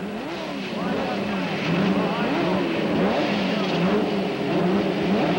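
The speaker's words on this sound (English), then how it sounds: "The Indy cars begin to roar." Indy car engines at the 1990 CART Denver Grand Prix on downtown Denver streets, a sustained rising and falling roar of several cars revving under a loud crowd-and-commentary wash, with repeated pitch sweeps as engines climb.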